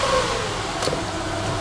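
An Acura car engine runs steadily nearby, a continuous mid-pitched hum with a slight rise near the start and no talk over it.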